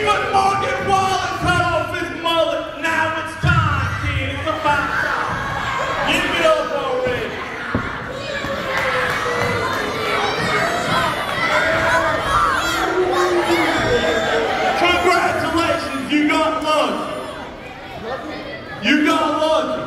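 A wrestling crowd at an East Hub show roars and cheers loudly with shouts and chatter, sustained and close, while someone talks over the noise.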